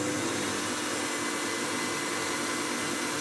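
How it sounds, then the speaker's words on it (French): Electric mixer whisking egg whites with sugar at low speed, a steady uninterrupted whirring drone, close and fairly loud, with no talking. "Donc, on va commencer à fouetter tout doucement."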